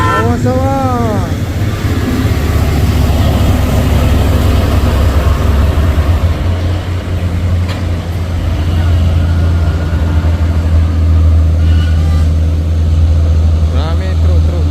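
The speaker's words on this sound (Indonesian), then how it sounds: "Rame truk-truk berat menanjak bosku." Loaded heavy trucks and trailers grinding up the Bukit Kodok hill, a loud, continuous low engine drone that swells and fades as vehicles pass, with people talking over it.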